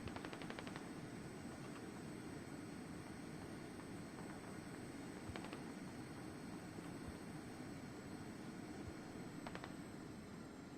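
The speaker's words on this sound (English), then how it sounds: "Some good old heat rounds going off." Tank in a multiplayer war game firing HEAT rounds at infantry, heard as a few sharp bursts of cannon and automatic fire over a dense, constant battlefield rumble, moderately distant.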